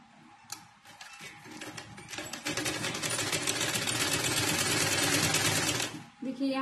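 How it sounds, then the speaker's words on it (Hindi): A sewing machine running a straight seam on a saree made from an old lehenga, starting with a few slow stitches and then whirring fast and steady for several seconds before stopping, with faint talk at the start. "इसे सीधी सिलाई करेंगे। इधर साइड की सिलाई करेंगे,"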